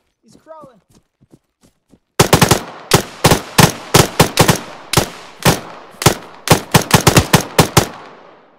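Rifle fire in a co-op shooter video game: after a brief quiet spoken moment, a rapid string of sharp, loud gunshots in uneven bursts, some closely spaced and others separated by short pauses, with a faint voice beforehand.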